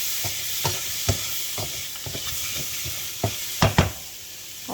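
Dried fish fries in a pan under a constant close sizzle, with repeated scraping stirs of a utensil knocking against the pan at an irregular rhythm.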